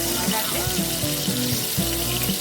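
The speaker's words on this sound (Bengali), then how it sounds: "পটলগুলো আস্তে আস্তে এরকম করে করে ভেজে ভেজে নিচ্ছি।" Pointed gourd (potol) pieces frying in a pan over a high flame, a steady, fairly loud sizzle with a faint low hum beneath it.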